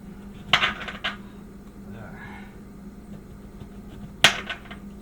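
A knife chops the ends off a fresh lemon on a cutting board, giving two sharp, close taps several seconds apart with a faint scrape between them.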